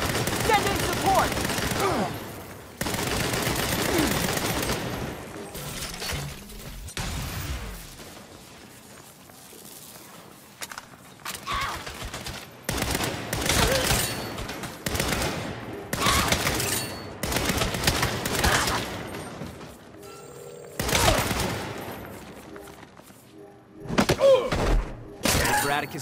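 Repeated bursts of heavy gunfire in the action video game Saints Row, loud volleys and rapid fire separated by short gaps, with shouted voices now and then.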